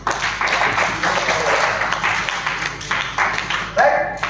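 An indoor audience at a training meeting applauds with sustained, loud, dense clapping that continues for several seconds, with a voice cutting in near the end.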